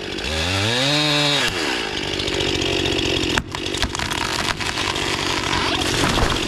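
A chainsaw revs up and cuts into a tree leaning toward a house, its engine whining up and down before settling into a loud, continuous buzzing cut close by, with a brief dip in the middle.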